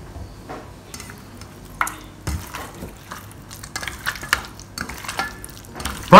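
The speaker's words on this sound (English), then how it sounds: "mix them up well. I like to use my hand for this" Raw pork is mixed by hand with baking powder and white pepper in a bowl, giving soft wet squelches and occasional light knocks against the dish, ending in a brief louder clatter.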